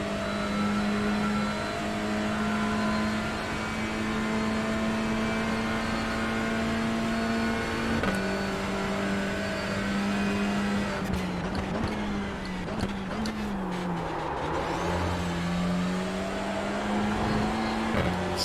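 A race car in the iRacing sim slides into a chicane during a Touring Tuesday race, its engine holding a steady loud drone before dropping in pitch as it brakes and scrubs through the corner, with tire and bump noises.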